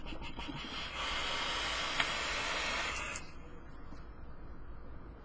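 A long hissing draw on a vape loaded with fruity rainbow-sherbet cereal-milk e-liquid, a steady airy rush lasting a couple of seconds that cuts off abruptly, followed by quieter room tone.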